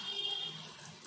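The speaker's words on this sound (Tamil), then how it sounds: "கொஞ்சம் தண்ணி ஊற்றி அதை முங்குற அளவுக்கு தண்ணி ஊற்றியிருக்கேன்" Water poured into a pressure cooker over rajma beans, a brief soft, steady splashing stream heard close up and alone.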